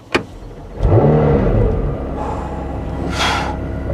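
A McLaren 720S is started with a push button: a sharp click, a starter whir, then the engine catches with a loud rising flare and settles to a steady idle, close by.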